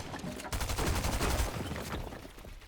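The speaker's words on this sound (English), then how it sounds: "If I can hit my shotgun shot" Shotgun blasts in Fortnite, a rapid cluster of several close, loud shots and game noise over under three seconds.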